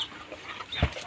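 Native desi chickens on a cattle farm give a brief cluck, with a short sharp call near the end over a quiet background.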